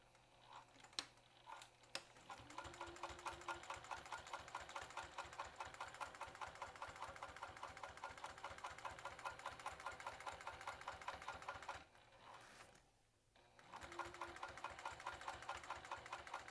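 A sewing machine runs steadily, top stitching fabric for a crossbody bag at an eighth-inch seam allowance, with a fast, even mechanical chatter that pauses briefly near the end before starting up again.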